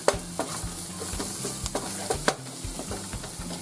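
Shallots and plenty of mushrooms are stirred in a skillet while making Beef Wellington. A utensil scrapes and knocks against the pan in quick strokes over a low sizzle.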